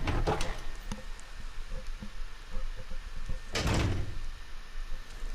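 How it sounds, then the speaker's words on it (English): A door opening in the Resident Evil 0 survival horror game, a brief broad thud and creak near the start followed by a louder sustained rumbling swing of the door midway, over a steady low ambient hum. "but go through the door."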